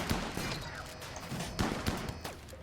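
Mechanoid gunfire in the video game RimWorld: a few sharp shot bursts over a busy, noisy battle mix, moderately loud and fairly close.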